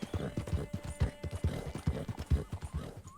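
Horse hooves clip-clop at a steady rhythm in the video game Red Dead Redemption 2, close and distinct, with a faint tonal layer in the background and no speech.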